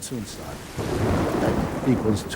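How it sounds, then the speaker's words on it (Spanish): Monsoon rain pours in northern Burma while thunder rolls, a deep rumbling swell under a steady wash of heavy rain, loud and enveloping throughout. "los monzones eran como telones de agua que caían"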